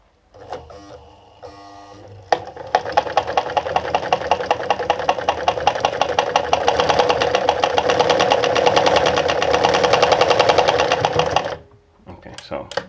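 A Pfaff 210 sewing machine runs a straight stitch in a fast, steady mechanical chatter, close and loud, starting abruptly after a brief pause and running about nine seconds before stopping.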